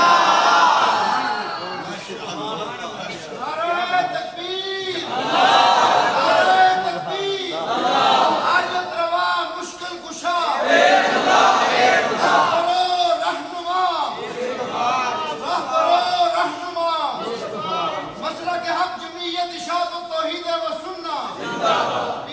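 A crowd at a religious sermon shouts slogans in rhythmic chanted bursts, loud and close, with voices rising and falling in unison amid cheering.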